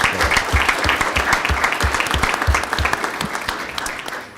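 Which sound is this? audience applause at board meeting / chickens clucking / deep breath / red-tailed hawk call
audience applause at board meeting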